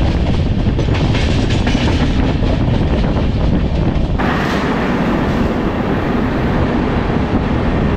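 A train runs on rails with a loud, constant rumble and rhythmic clatter, close by and unbroken, shifting in tone partway through as the carriage noise changes.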